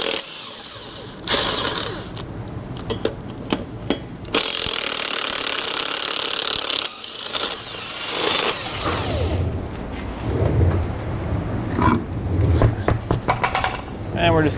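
Power tool spinning off lug nuts from trailer wheels on a tandem axle trailer, with several loud bursts of whirring and rattling impact separated by pauses, plus clanks and handling noises toward the end.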